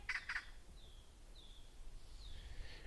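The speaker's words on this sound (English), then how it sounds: "these birds are not going to stop, are they?" Small birds chirping in a garden, a few thin high calls spaced across the moment over steady outdoor background noise, with two brief brighter bursts at the start.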